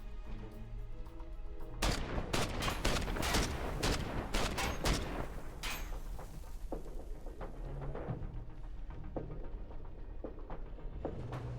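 Sustained gunfire in the Every Day We Fight video game: dense rapid shots hammering for several seconds, then thinning into scattered cracks and fading.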